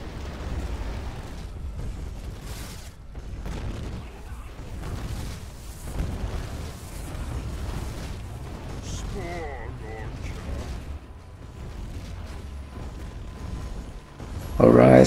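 Bomb blasts in the real-time strategy game Battleforge rumble as a steady low booming wash of explosions and battle noise, with a sharper louder burst at the very end.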